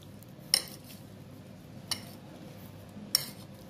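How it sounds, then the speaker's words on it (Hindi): A large serving spoon clinks three times against a jar or bowl while oil goes into green chilli and radish pickle, sharp close metallic taps spaced over a quiet background. "इतने बड़े सर्विंग स्पून से मैंने 5 स्पून ऑयल डाला है।"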